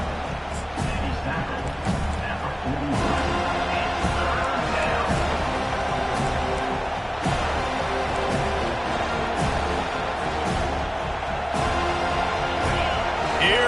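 A home crowd at a football game roars continuously as the defense faces third down, loud sustained cheering with scattered yells and thumps throughout.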